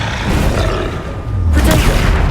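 Confringo spell explosions in Hogwarts Legacy: a booming blast followed by a second, heavier burst with a crackling roar, loud and close, over game background noise.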